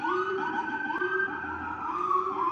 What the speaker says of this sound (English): Okay, we always have to have the token siren here.